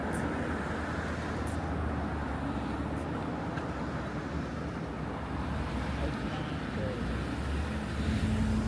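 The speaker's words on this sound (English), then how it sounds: "Okay, big truck." A big truck rolls past on a wet winter road, a broad steady roar of tyres and engine with wind buffeting the microphone, holding fairly constant throughout with no talk.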